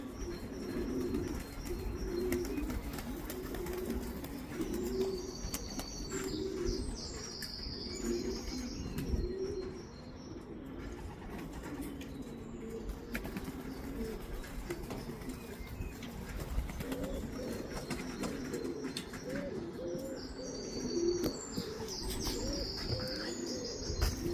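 Young racing pigeons coo steadily in low, rolling calls, with scattered chirps and occasional wing flutters, a continuous flock murmur with no talking.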